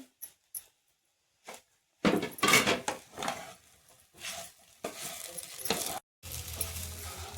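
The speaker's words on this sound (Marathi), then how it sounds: "थोडासा उरलेला कूट शेंगदाण्याचा तो पण टाकून घेऊया." Leftover crushed peanuts tipped into a pan of sabudana khichdi, a few faint taps, then a louder scattering rattle with scraping and clinks of a spoon against the pan, in short bursts separated by quiet gaps.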